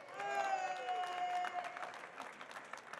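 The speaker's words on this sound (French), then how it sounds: "des applaudissements nourris et chaleureux pour cette belle réalisation" An audience applauds at a press conference held by swimming pool professionals at a trade show, an award presentation in progress. The clapping is steady but fairly quiet and distant, with a sustained voice or tone over it, and it thins out toward the end.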